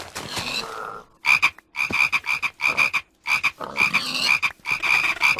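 Frogs croaking in the Minecraft Crazy Craft modpack, a loud run of repeated rhythmic croaks in quick bursts that follows a brief opening stretch of other game sound.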